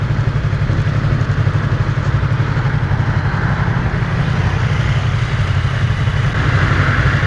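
Close and steady, a 2015 Yamaha YZF-R3 sport motorcycle idles with an even, throbbing mid-pitched engine note and no break or change in level.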